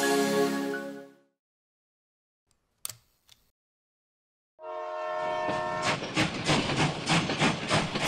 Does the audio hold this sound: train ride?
yes